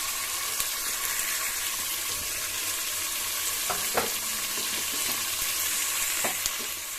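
Field beans (avarekalu) frying in a pan give off a steady hiss and crackle, close up, with a few soft scraping and tapping sounds over the continuous sizzle.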